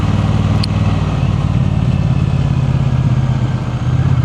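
Triumph T120 motorcycle engine running steadily with a loud, close, even low rumble that holds constant throughout, no voices.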